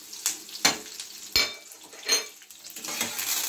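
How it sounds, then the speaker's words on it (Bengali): Green chilies and curry leaves crackle and sputter in hot oil for a potato curry sandwich, a quiet sizzle broken by sharp spatters and the scrape and clink of a spoon against the pan. "কাঁচা লঙ্কা দিয়ে দিলাম ফোড়ন, কারি পাতা দিলাম ফোড়ন"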